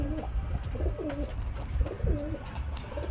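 Several pigeons coo in low, soft repeated phrases at close range, the calls overlapping in a steady murmur with light rustling and background noise. The birds are old loft pigeons kept in pairs.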